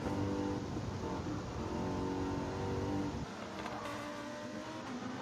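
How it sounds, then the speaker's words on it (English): A Mercedes race car in the video game Gran Turismo 7 revs loudly at high engine speed. Partway through, the engine note drops to a quieter, steadier hum. "Great car to drive though, the Mercedes."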